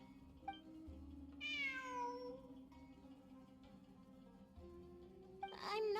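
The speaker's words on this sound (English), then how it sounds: "It really is a cat." A cat in Genshin Impact meows, one clear drawn-out meow followed later by a shorter one, over a quiet game background hum.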